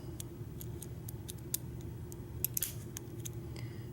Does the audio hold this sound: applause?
no